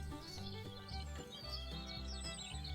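Small birds chirp and tweet softly in the background over a steady musical backing, with quick high calls scattered throughout.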